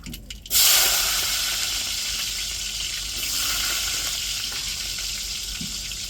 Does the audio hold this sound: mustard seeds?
yes